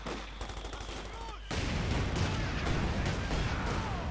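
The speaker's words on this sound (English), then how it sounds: "Bit of bazooka fire there." Bazooka fire rings out in a Company of Heroes 2 battle, a loud broadband blast at about 1.5 seconds that gives way to a sustained roar of combat with gunfire layered over it.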